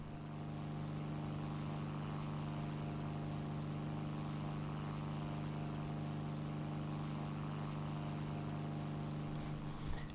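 A propeller aircraft engine in a flight combat video game drones steadily and loudly at a constant pitch, with a sudden short burst near the end.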